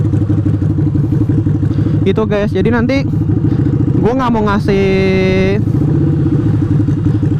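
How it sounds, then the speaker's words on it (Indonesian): Harley-Davidson Street motorcycle with a V-twin engine and an enlarged modified exhaust, idling with a steady low rumble, then revved in a few sharp bursts that swell into a sustained high rev before settling, under someone talking. "ini menurut gue udah modif dikit knalpotnya jadi agak besar biar Harley banget, V-twinnya berasa"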